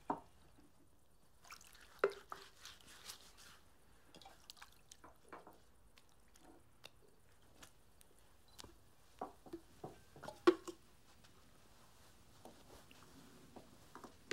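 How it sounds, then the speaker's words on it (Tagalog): Water dripping and splashing softly in a basin during foot washing, scattered faint drips and small splashes at irregular intervals over near silence. "nagbuo siya ng tubig sa isang palanggana at sinimulang hugasan ang paa ng mga tagasunod niya"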